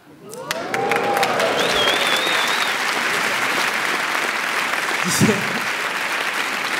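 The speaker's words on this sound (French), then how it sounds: "Vous avez fini par applaudir parce qu'il y en avait d'autres qui applaudissaient" An audience at a comedy gala in Montreux breaks into sustained applause that swells quickly and holds steady, with a few cheers and whistles mixed in.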